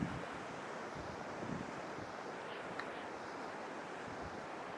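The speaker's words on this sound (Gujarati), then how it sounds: "દરિયાનો અવાજ અહીં સુધી આવે છે." Sea waves break and wash continuously at Nagoa Beach in Diu, a broad steady surf roar with light wind, heard alone without voices.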